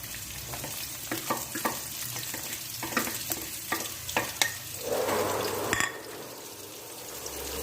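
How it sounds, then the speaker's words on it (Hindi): Onions frying in hot oil in a desi kitchen in Pakistan while being stirred until brown for aloo chicken: a steady close sizzle with repeated scraping stir strokes and a fuller hiss burst midway. "प्याज को हमने तब तक हिलाना है जब तक ये ब्राउन हो जाए"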